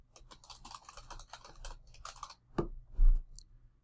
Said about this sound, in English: Then type in your name